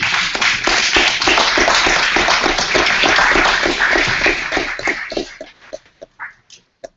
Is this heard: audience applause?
yes